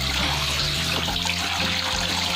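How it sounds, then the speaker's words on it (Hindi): Tap water runs steadily into water balloons being filled for Holi, a continuous close rushing splash that lasts throughout with no talk over it. "अब मैं इनमें पानी भर दूंगी।"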